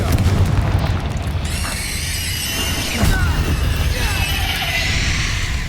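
A Confringo spell blast in Hogwarts Legacy lands as a dense, sustained boom with crackling debris and whooshing effects, loud and continuous throughout, with a short sharp impact partway through.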